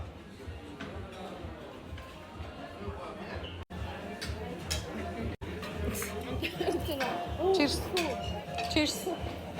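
Glasses clink in a toast among friends at lunch in Debre Zeyit: several bright clinks ring out over lively, overlapping talk and table noise.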